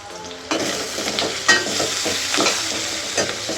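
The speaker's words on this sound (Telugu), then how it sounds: "ఆనియన్స్ తొందరగా వేగుతాయి" Chopped onions sizzle and fry steadily in a hot pan with turmeric and salt, stirred now and then with scraping sweeps of a spoon, close up and continuous with no voices.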